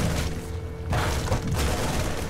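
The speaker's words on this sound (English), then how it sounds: "Loads them out only to get more pot shots at the spine crawler." Marines firing at a Zerg spine crawler in StarCraft II, loud dense bursts of rapid gunfire with booming impacts, overlapping in a continuous battle barrage.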